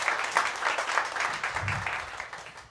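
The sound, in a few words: audience applause at comedy show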